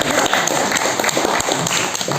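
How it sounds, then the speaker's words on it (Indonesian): A church congregation in Purbalingga claps together during a sermon, a loud, continuous patter of many hands with uneven peaks. "tepuk tangan dulu"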